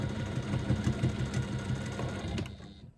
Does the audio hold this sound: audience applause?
no